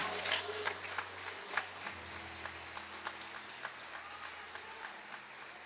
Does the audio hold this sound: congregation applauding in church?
yes